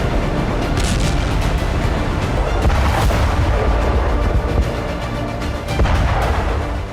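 A Russian glide bomb strike on Ukrainian weapons depots sets off a sustained roar of heavy blasts and rumbling booms, dense and loud, with sharper cracks scattered throughout.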